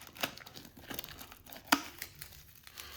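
Cellophane wrapping being pulled off a Honda 15400-R5G-H01 oil filter, with a few soft crinkles and one sharp, close crackle midway. Quiet and alone, with no talk.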